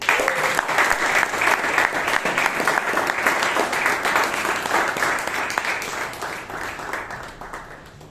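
Steady applause from a meeting audience at a Bangalore Toastmasters club as a speaker is welcomed to the floor, loud and continuous from the start, then tapering slightly toward the end.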